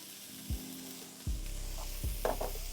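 Shallots sizzle steadily in a hot pan with browned bits on the bottom, cooking for shrimp scampi; a few utensil knocks and stirring scrapes sound close over the constant frying hiss, with no talking.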